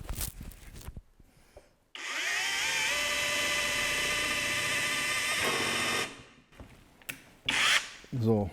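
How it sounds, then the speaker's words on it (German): A Bosch drill fitted with a OneChuck bores through 2 mm sheet metal in a sustained whining grind of about four seconds, close and loud, bracketed by quieter handling noises and short bursts. "Auch hier mal bohren. Wir haben jetzt hier knapp 2 mm Metallblech."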